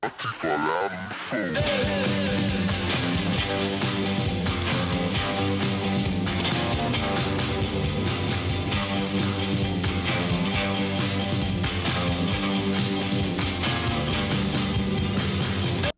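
A podcast hosts' band plays a full, dense rock track, loud and continuous for about fourteen seconds after a brief quiet start.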